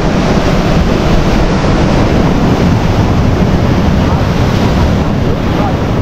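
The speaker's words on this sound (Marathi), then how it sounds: "आप बघू शकता लाटा जोरात जोरात यायला लागलेले." Strong ocean waves crash at Devghali beach near Kasheli on the Konkan coast. The surf roars loud and continuous, with wind buffeting the microphone throughout.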